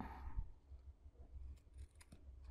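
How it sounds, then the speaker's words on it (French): Scissors snip off the excess ribbon on a handmade Stampin' Up! ice cream card, a few quiet, close clicks and cuts over a low background hum. "Je viens couper le surplus du ruban."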